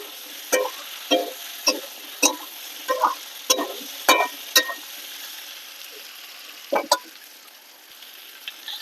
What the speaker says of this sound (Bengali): এবার দিয়ে দেবো চিকেন মশলা। ভালো করে নেড়ে চেড়ে নেবো।